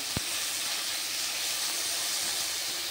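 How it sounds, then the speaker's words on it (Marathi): Onion frying in a pan, a soft, steady hiss of sizzling oil throughout with one brief knock near the start, fairly faint and without talk. "अगदी सोनेरी रंग येईपर्यंत आपल्याला कांदा भाजून घ्यायचा आहे।"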